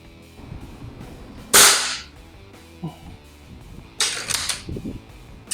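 A Gamo BigCat 1200 break-barrel 4.5 mm air rifle rated at 33 joules fires outdoors at a target in light wind. A loud, sharp crack is followed a few seconds later by another sharp burst and small clicks.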